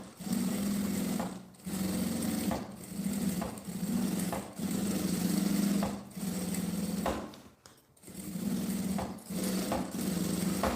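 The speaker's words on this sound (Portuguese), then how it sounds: "passa uma costura na beiradinha para segurar esse bolso" A sewing machine stitches along the edge of a pocket on a small oral-hygiene pouch, whirring in steady bursts of one to two seconds separated by brief pauses, close up and without talk.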